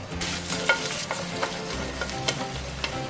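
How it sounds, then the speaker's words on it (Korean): Sliced ham stir-fried in a dry pan with no oil, a steady sizzle broken by repeated scraping clicks of a utensil stirring the pieces, close and continuous. "팬에 썰어둔 햄을 넣고 볶아줄 거예요."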